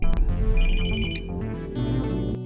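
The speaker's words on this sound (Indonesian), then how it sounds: "ia terbangun oleh suara dering ponsel" A loud, bright electronic ringtone melody plays continuously, with layered tones and a short pause near the end.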